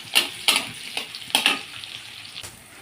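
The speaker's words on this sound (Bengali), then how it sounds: "বড় বড় ডুমো ডুমো করে কাটা পেঁয়াজটা আমি একটু হালকা ভেজে নেব" Large diced onion chunks lightly frying in oil for a fish curry, giving a steady close sizzle broken by a few sharp stirring scrapes.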